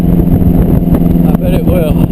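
A 1952 MG TD engine pulls up a steep hill in fourth gear, giving a steady, loud low drone throughout while someone talks over it.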